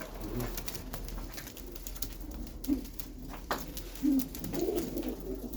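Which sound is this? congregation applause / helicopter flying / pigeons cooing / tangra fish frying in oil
pigeons cooing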